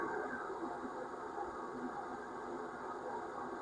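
An outdoor exhaust fan drones continuously with a steady, rough broadband rush, moderately loud and unbroken, with no one speaking.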